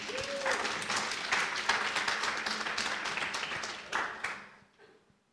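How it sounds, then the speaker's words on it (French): Audience applause at a French recruitment talk as a volunteer comes on stage, brisk and steady, swelling once more before tapering off to quiet. "On l'applaudit pour l'aider."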